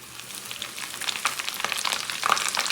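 Smoked fish (tinapa) frying in hot oil, a steady close crackling sizzle that grows slightly louder over a couple of seconds, with no talking.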